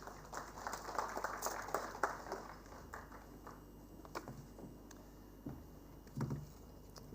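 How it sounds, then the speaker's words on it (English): At a circular economy symposium, an audience gives a faint, brief round of scattered applause, the claps soft and distant across the room. "Please welcome him with a round of applause."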